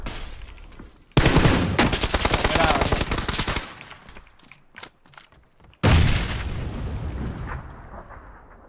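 Bursts of automatic gunfire in PUBG, a loud rattling volley followed by scattered distant shots, then another sharp burst and an echoing tail, with voices talking over the action.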